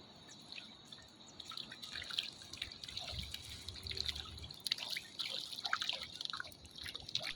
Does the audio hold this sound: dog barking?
no